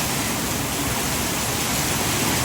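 Floodwater roars from a dam dumping river water during Hurricane Milton, a loud, steady broadband rush that fills the whole stretch without letup.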